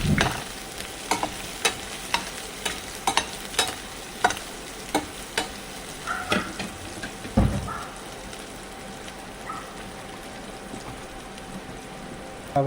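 Onions fry in a pan while being stirred, the steady sizzle punctuated by a regular series of distinct scraping strokes, loud and close, with a spoon clattering about every half second.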